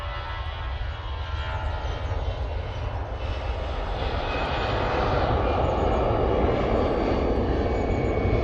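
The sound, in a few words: EasyJet airliner taking off from Manchester Airport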